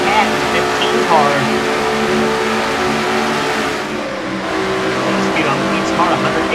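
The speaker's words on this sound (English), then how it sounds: "the 3 and the 21 cars going at it right here as they come through turn number 2 on board with Keith Batson." Race cars from the NNSCRA Castrol GTX Cup Series scream through turn two at speed, their engines a loud, continuous drone heard from on board, with commentary running over it.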